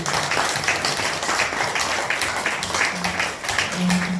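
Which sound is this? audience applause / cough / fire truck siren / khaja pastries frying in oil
audience applause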